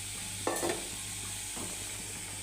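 Liquid in a cooking pan on the stove, bubbling and sizzling steadily close up, with a couple of brief stirring or pan knocks and no talk.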